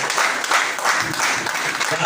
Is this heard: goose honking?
no